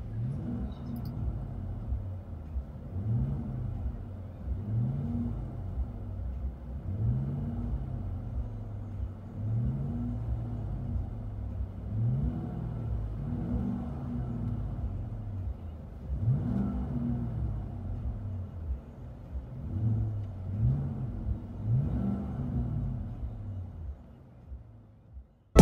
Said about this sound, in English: Interior tone level is mild with this Flowmaster Delta 50 True Dual Exhaust.